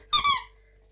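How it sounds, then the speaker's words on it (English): Squeezed vinyl gonk dog toy lets out a single bright, close, wheezy squeak lasting under half a second, then falls silent. "It is a vinyl gonk. It squeaks like so"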